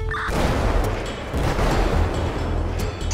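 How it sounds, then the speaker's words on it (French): A deep video-game explosion booms and rolls on as a sustained, rumbling blast in GTA V with the LSPDFR mod, with no voices. "nous avons entendu une autre explosion"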